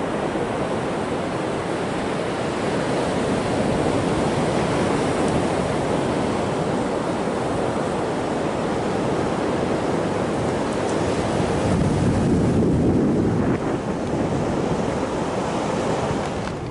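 Surf rolls and washes along a long beach in a loud, steady roar of breaking waves, with wind buffeting the microphone and no voices.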